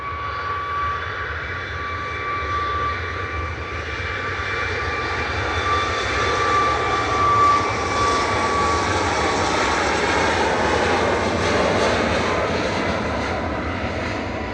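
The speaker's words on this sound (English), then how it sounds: "But this is Ryanair departing now." A Ryanair passenger jet departs Manchester Airport for Palma with a loud, sustained engine roar and a whining tone that swells slightly as it passes. No one speaks.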